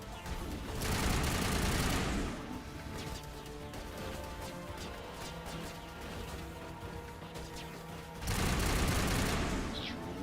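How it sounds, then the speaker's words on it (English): Heavy sustained gunfire in the Mass Effect video game, dense rapid bursts and crashes that swell loudly at the start and again near the end, continuous and close with no speech. "Just riddling me with bullets from behind."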